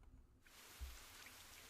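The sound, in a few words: sudden downpour of rain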